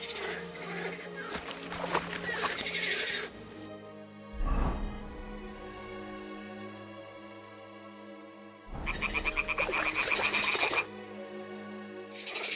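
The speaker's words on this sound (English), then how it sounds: "Ah, the toads are croaking here." Toads croak in two dense, rattling bursts in the game Kingdom Come: Deliverance 2, separated by a quieter stretch of low ambience and a single dull thump.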